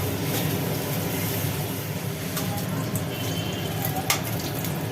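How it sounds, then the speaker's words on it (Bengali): A steady, hissing sizzle of pointed gourd frying in hot oil runs throughout, constant and fairly loud with a few small crackles on top. "পটলগুলো ভাজা চলুক"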